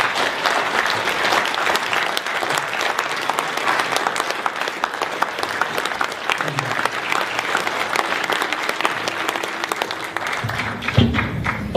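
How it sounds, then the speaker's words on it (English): Audience applause for Dhoruba Bin Wahad at an evening event on police terrorism, a steady roar of many hands clapping that fills the whole stretch and thins slightly toward the end. "I want y'all to give a strong round of applause for our good brother, Dhoruba Bin Wahad."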